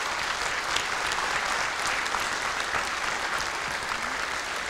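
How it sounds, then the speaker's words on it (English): Sustained, dense applause from an audience honoring the Sheraton Waikiki staff at a letter of intent signing day, a steady wash of many hands clapping at even loudness throughout, fairly near, without talk. "Please give a round of applause to the Sheraton Waikiki staff"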